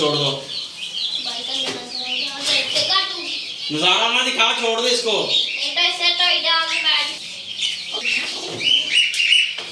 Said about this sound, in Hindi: कबूतर ने आवाज़ भी निकालना शुरू कर दी है